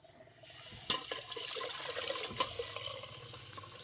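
Water poured into a pot to make tea, a continuous splashing pour with a few sharper splashes and trickles. It starts after a brief quiet moment and runs close and fairly soft for several seconds.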